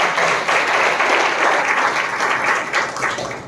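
A church congregation claps and applauds in a dense, loud burst of hand clapping that runs steadily throughout without letting up.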